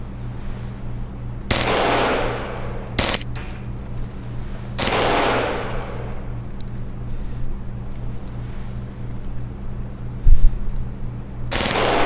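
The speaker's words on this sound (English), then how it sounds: "This is the Glock 18C." A Glock 18C automatic pistol in Black Ops lets off several short, loud bursts of rapid fire, separated by stretches of low rumbling background noise.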